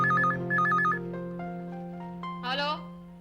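A telephone rings nearby in two quick electronic trilling bursts within the first second, followed by a few fainter tones. A brief voice follows near the end.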